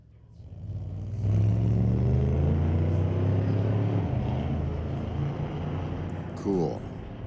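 A Corvette making a drag run at a street legal drag night at a raceway park, heard as a loud, sustained engine roar that rises in pitch and holds for several seconds, with a brief faint sound near the end.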